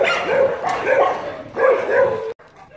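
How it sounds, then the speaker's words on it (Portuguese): Several dogs in the street bark in short bursts, two clusters of yaps and woofs at moderate distance, ending abruptly. "Bem aguçado por causa dos cachorros latindo na rua."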